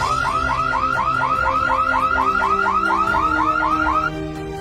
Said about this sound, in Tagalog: Uy, nag-alarm.